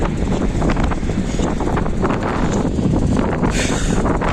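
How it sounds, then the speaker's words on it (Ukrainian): Strong gusty wind at a beach in Cape Verde buffeting the microphone, a loud continuous roar with rushing noise and no talking. "І сильніший вітер."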